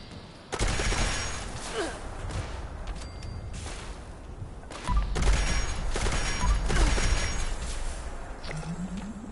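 Gunfire in Fallout 76, a dense run of loud close shots in rapid bursts with two heavier volleys, the firing nearly continuous across the stretch.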